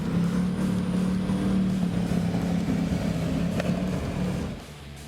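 Racing catamaran powerboat with Mercury Racing 1350 engines at a Key West poker run, its throttles pushed forward, giving a steady loud low engine drone that fades slightly at the end, with no voices.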